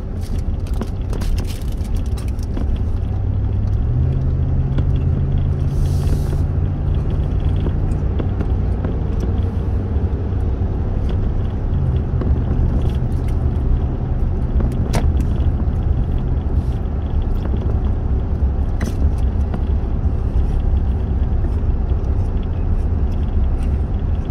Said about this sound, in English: Passes me on a double line. Truck was still speeding up.